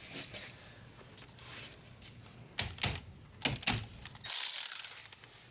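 A ratchet clicks in short, quick bursts while tightening the bolts on a transmission mount of a VW Passat. The clicks are close and moderately loud, with quiet pauses between runs and a brief harsh mechanical rasp near the end.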